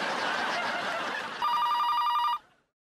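A telephone bell rings in a home at night, a steady run of rapid electronic trills that starts after a stretch of background noise and stops abruptly near the end.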